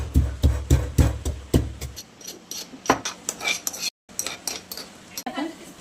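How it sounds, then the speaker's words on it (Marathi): Garlic, ginger and salt are pounded together for a chicken paratha: about two seconds of heavy, evenly spaced thuds, followed by lighter clinks and scrapes of kitchen utensils, close by, with a voice faintly present. "मी हे अद्रक लसूण कुटून घेतलेलं आहे"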